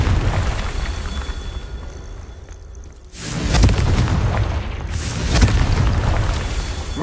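A fire-spell blast from a Harry Potter video game sounds as a loud, deep boom followed by a rumbling burst, then a second, smaller explosive hit a couple of seconds later.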